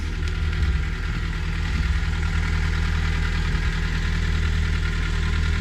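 A VW Golf Mk4 1.4 engine idles steadily after a fuel filter change, a smooth, even low rumble heard close up with no talking.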